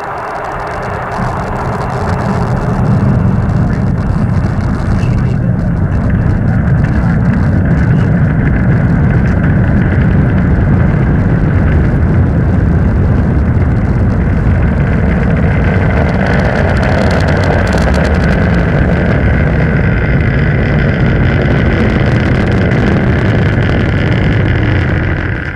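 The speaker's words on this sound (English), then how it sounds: "And liftoff. The Falcon takes flight, propelling the Deep Space Climate Observatory on a million-mile journey" A Falcon rocket lifts off carrying the DSCOVR observatory, a loud continuous roar with heavy rumble and wind-like rushing that builds over the first few seconds and then sustains without a break.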